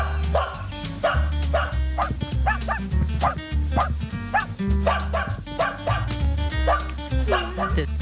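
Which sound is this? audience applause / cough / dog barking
dog barking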